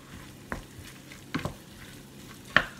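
Tomato puree stirred into chicken curry in a pan, three or four scraping spoon strokes spaced apart over a faint sizzle, close and quiet with no speech.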